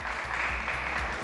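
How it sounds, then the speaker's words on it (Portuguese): A studio audience on a TV talk show claps in a brief, dense burst of applause heard at moderate loudness. "Uma salva de palmas para ele."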